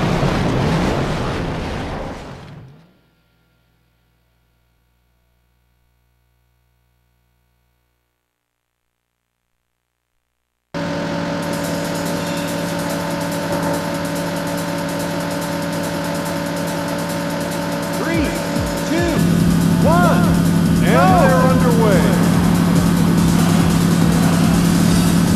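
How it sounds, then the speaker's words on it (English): Race car engines in the video game Daytona USA roar at the race start, cutting in loud and sustained after a silent pause and swelling further as the cars pull away. "gentlemen, start your engine."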